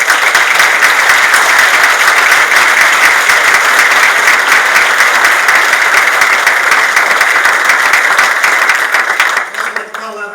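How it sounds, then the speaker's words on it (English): Loud, dense applause from an awards ceremony audience, a sustained wash of many hands clapping close up that carries evenly for most of the clip and then thins and fades near the end. "Please give her a round of applause."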